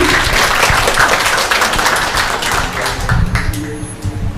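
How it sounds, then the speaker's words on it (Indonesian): A room full of people at a university open house claps loudly and continuously, a dense patter of hands that gradually thins toward the end. "Tepuk tangannya teman-teman."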